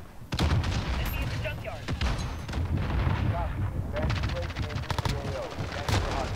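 Rapid bursts of gunfire in the Call of Duty: Modern Warfare video game, sharp repeated shots and volleys clustering loud and near throughout, with a voice speaking briefly amid the shooting.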